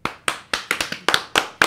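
Sparse, slow clapping from a small comedy-show audience: about eight distinct, fairly close hand claps in an uneven rhythm, with no talk over them.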